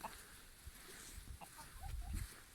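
Chickens clucking in a farmyard as they are called to come over, with faint scattered clucks and low shuffling noise in a quiet outdoor setting.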